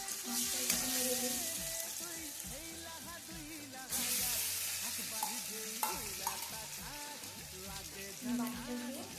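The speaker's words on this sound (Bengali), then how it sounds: "ভালো লাগে মাছটা একটু নেড়ে দিই।" Hilsa fish pieces being stirred in hot oil in a kadai, with a steady sizzle and repeated scraping, clattering stirs close by throughout.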